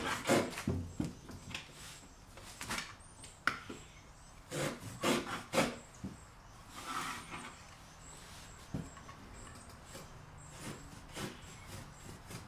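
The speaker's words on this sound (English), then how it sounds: "The 2x4 goes right along the edge. Hold it down" Hand sawing through a wooden 2x4, uneven rasping strokes in bursts, close by, with a few knocks and pauses between strokes.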